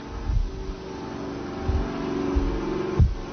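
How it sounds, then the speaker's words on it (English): A steady motor hum from a self-charging electric car, running continuously at close range with a few low thumps and knocks along the way, and no speech. "Motor still running."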